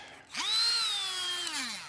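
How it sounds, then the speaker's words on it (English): A cordless Dremel rotary tool spins up with a rising high whine, holds a steady pitch for about a second, then winds down, sounding close and alone. "We're gonna use Dremel."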